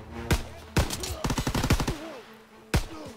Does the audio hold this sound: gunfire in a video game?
yes